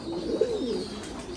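Ornamental fantail pigeons of a Thai breed coo nearby, a single soft rolling coo rising and falling over faint background hiss.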